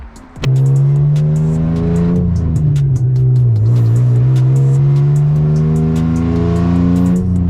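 An old Ford Taurus engine fitted with nitrous starts with a jolt and then holds a loud, steady rev that dips slightly and climbs again, close by and continuous.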